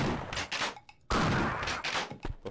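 Shotgun firing in the Half-Life video game: two loud, close blasts about a second apart, each followed by a short rattling tail, with a brief near-silent gap between them.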